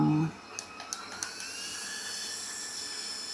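A GOOJODOQ GFS025 handheld camera fan runs with a steady, fairly noisy high whine, close to the listener, with a few faint clicks near the start after a brief burst of talk.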